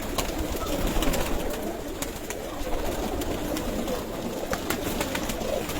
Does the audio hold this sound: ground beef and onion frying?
no